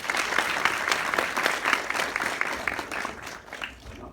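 Sustained audience applause after a university finance lecture, a dense, steady patter of many hands clapping at even loudness for the whole stretch, with no voices over it.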